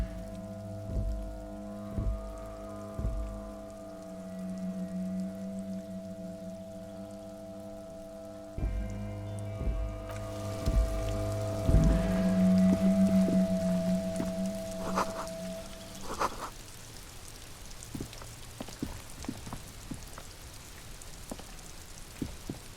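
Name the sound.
rain falling in the video game Disco Elysium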